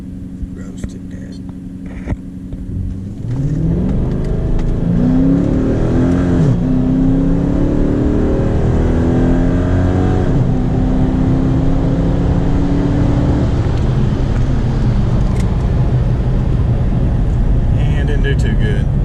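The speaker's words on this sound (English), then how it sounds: "We're going to try to do another 8-mile pull." A 5.7 Hemi with a muffler delete, 93 tune and cold air intake launches for an eighth-mile pull, opening into a loud rising roar that climbs through the revs and holds near the mic, with voices talking over it.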